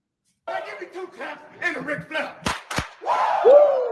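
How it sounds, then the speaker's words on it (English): A soundboard plays a Ric Flair style "whoo" yell and clapping: shouted voice fragments, two sharp claps, then a long rising whoo, loud and close. "Let me get a 2 clap and a Ric Flair"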